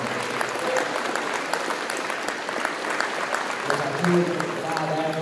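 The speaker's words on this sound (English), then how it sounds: "Go around the applause again." Applause from a crowd at a high school National Signing Day event, steady dense clapping filling the room for several seconds with faint voices mixed in.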